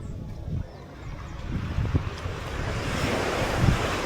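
Waves break along a beach in Antigua in the Caribbean, a continuous washing surf with occasional heavier surges, mixed with gusty wind buffeting the microphone.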